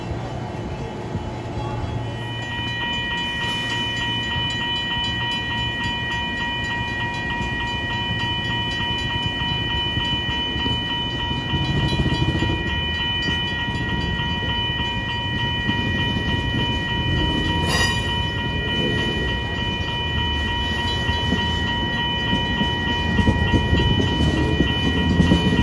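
An Amtrak passenger train rolls past steadily for a long stretch, wheels rumbling and clacking over the rails, with a sustained high whine above the noise.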